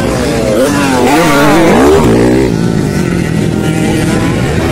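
An 85cc motorcycle in a race, its small engine revving loud and close with rising and falling pitch as it accelerates, a second engine droning beneath.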